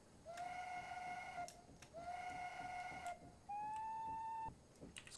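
A steam locomotive whistle from Train Simulator 2019 sounds in three separate blasts, two similar long toots followed by a slightly higher, shorter one, clear and fairly loud against a quiet background.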